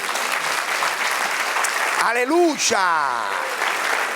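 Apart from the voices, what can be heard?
church congregation applauding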